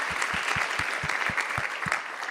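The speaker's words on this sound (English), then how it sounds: "Ladies and gentlemen, let's give a huge round of applause." Sustained audience applause for a panel discussion, a steady dense wash of many hands clapping at moderate distance with no voices over it.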